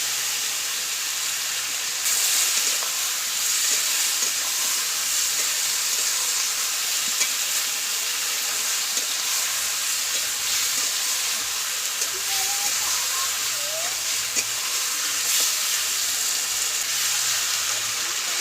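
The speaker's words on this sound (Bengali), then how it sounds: "ভালো করে কিন্তু মশলাটা আমি কষিয়ে নেব" Spice paste and fried pointed gourd with a little water in a pan for a vegetarian dish, producing a steady, even hissing sizzle that holds unbroken throughout.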